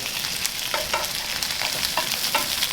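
Sausages and onions frying in a hot pan for a sausage, mash and onion gravy dinner, a steady loud sizzle broken by repeated scraping stirs as the onions are turned, with no talk.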